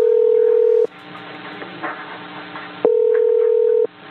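Telephone dial tone while placing a call, a steady tone for almost a second, then a gap of quieter line noise, then the same tone again for about a second.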